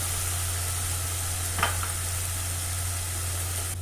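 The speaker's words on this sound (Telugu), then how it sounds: "ఉల్లిపాయ పేస్ట్ని కలర్ చేంజ్ వరకు కూడా వేయించుకోండి" Onion paste frying in oil in a pan, a constant even sizzling hiss over a low hum, with one brief scrape of stirring midway.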